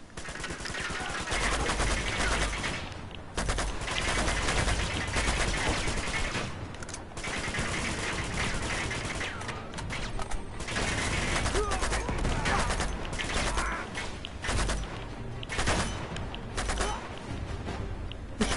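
Sustained gunfire in Uncharted 2: Among Thieves, dense bursts of automatic fire and shotgun blasts going on for the whole stretch, loud and close with brief lulls, under occasional voice chatter.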